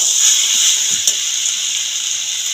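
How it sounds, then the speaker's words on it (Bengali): Water goes into a pan of spiced jackfruit, potato and prawns, giving a steady bright hiss and sizzle with a pouring, gushing texture and one small clink partway through. "এবার পরিমাণ মতন জল দিয়ে দেবো।"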